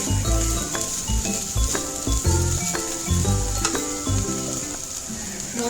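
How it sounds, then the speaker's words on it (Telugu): Grated coconut fries in a pan for a plantain curry, a loud, steady, close sizzle that crackles on without pause. "కోకోనట్ తురుముని యాడ్ చేసుకుని ఫ్రై చేసుకున్నాం"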